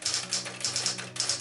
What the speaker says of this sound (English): Each key press made a satisfying clack as the letter hit the paper.